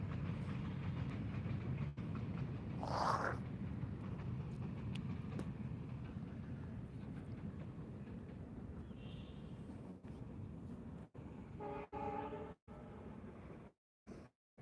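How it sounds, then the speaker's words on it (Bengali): A train heading toward India passes beside a mustard field with a continuous low rumble and rolling clatter, rhythmic clicks in the later part, and abrupt breaks near the end. "এটা ট্রেন ইন্ডিয়ায় যাচ্ছে"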